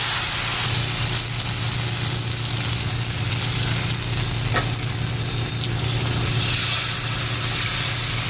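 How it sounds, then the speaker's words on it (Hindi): Hot oil sizzles and crackles steadily close by as kadhi is tempered, a continuous frying hiss with a low hum underneath and no talking. "तो अब हम कड़ी छौंकेंगे।"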